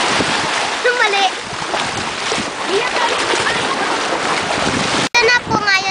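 A boat crossing open water to another island, with steady wind, engine rumble and splashing waves filling the whole stretch and a brief dropout near the end.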